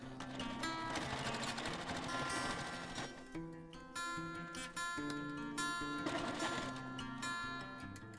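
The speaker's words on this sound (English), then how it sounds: "I'll just sew right over the top when I get back around to it" Sewing machine stitching over the top of quilt binding: a steady, rapid mechanical ticking and whirring up close, running almost continuously with a brief change in pitch midway, alongside background music.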